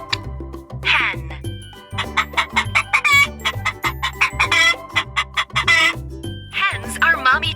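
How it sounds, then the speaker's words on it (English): A hen clucks repeatedly at close range, a steady series of short rhythmic clucks with occasional higher squawks, loud and clear with no other sounds. "Hens are mommy chickens."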